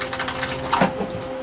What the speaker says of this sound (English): the foot pedal pushes slightly to let water into the bowl